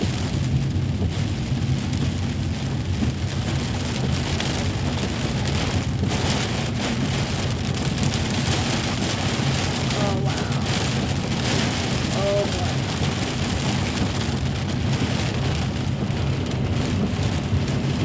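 Heavy rain pounds a moving car in a Georgia thunderstorm, a loud steady roar of drops on the roof and windshield with low rumbles of thunder underneath.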